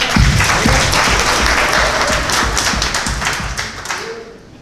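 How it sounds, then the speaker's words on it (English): An audience claps in a studio discussion, a dense burst of applause with some sharp taps that swells briefly and then fades out toward the end. "You can clap."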